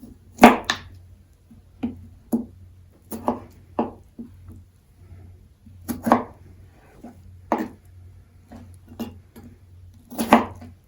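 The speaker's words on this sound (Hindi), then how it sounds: "सबसे पहले हम कीवी को काटते हैं।" Peeled kiwi being cut with a knife on a board, a series of about fifteen crisp chopping taps at an uneven pace, each clear and close, over a quiet low hum.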